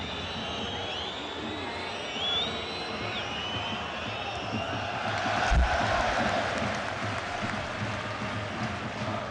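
Home crowd at a UEFA Cup football match between Standard Liège and Everton, a steady broad stadium roar with a swell of cheering partway through.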